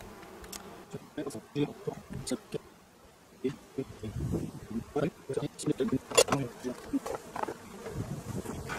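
Honeybees from a colony in a five-frame nucleus hive buzz close by, a wavering hum with individual bees droning past, alongside handling noises and occasional quiet talk.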